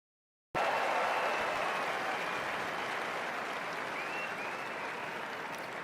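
Crowd applause at a presidential inauguration-day event, starting abruptly after a moment of silence and holding steady, dense and sustained, gradually easing slightly toward the end, with no speech over it.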